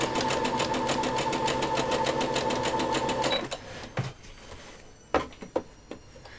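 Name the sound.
sewing machine running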